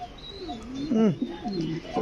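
A fancy domestic pigeon gives a short run of soft, warbling coos close by, amid background murmuring and voices.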